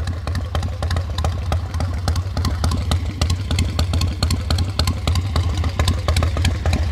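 A 1973 Harley-Davidson XLCH1000 Sportster with its ironhead engine idling close by, a steady, loud mechanical thump with rhythmic clatter throughout and no voices.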